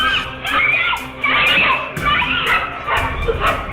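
Several street dogs barking and yelping loudly while chasing a child, close and frantic in repeated bursts, with shrill cries mixed in.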